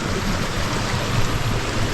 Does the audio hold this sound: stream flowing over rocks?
yes